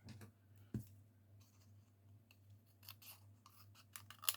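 Several quiet snips of scissors cutting decorative paper, short crisp clicks and rustles scattered over a low steady hum, with no talking.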